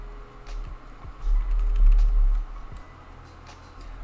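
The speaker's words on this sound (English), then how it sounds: "Let me type something." Typing on a computer keyboard, a run of quick clicking keystrokes at close range with a brief heavier burst in the middle, no talking.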